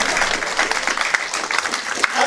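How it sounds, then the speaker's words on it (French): Brief burst of steady, dense applause from an audience at a church pastoral forum, close and loud throughout. "Applaudissons-nous."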